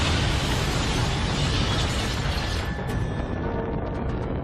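A meteor impact explosion sound effect, a loud, dense roaring blast of rumble and debris that stays powerful before thinning into scattered crackles.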